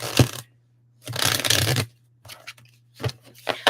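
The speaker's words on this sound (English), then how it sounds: "Okay, so I'm just giving this a good old shuffle." A tarot card deck is shuffled in several separate bursts, a long riffling rush in the middle and shorter flicks after, loud and close over a faint steady hum.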